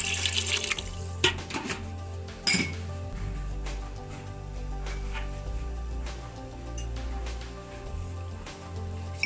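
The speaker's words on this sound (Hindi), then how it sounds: "दो से 3 गिलास इसमें पानी डाल देंगे।" Water runs from a tap and splashes into a pot holding half a kilo of mutton, a steady close stream with occasional clinks of metal and glass.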